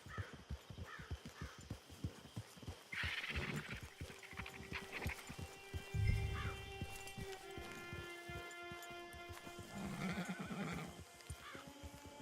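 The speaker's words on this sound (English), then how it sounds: "Get your horse." Horse hooves clip-clop in a quick steady rhythm in Red Dead Online, and a horse whinnies loudly twice between the steps, all close and with no talk over it.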